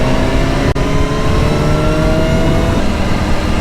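BMW S1000R motorcycle engine revving hard and close, a loud steady roar with a brief dip partway through, no voices.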